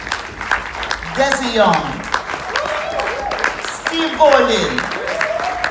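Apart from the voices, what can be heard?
audience applause as names are called at awards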